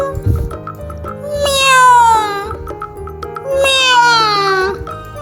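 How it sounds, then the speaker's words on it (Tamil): A domestic cat meows twice in long, rising-then-falling calls, close and loud, with a faint background hum between them. "Cat"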